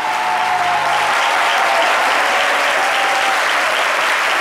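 Studio audience applause on a French midday TV talk show honouring a boxer, a steady, loud wash of clapping filling the whole stretch, with a faint low tone fading out early.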